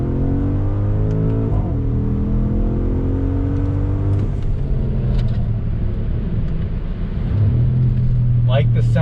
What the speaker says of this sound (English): Like the sound of the exhaust.